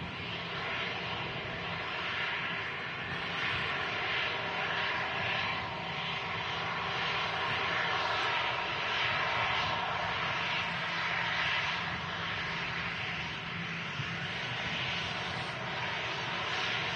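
EasyJet jet airliner arrived from Bilbao, vacating the runway at Manchester Airport: a continuous, fairly distant engine hum with a steady whine, holding at an even level for the whole stretch with no talk.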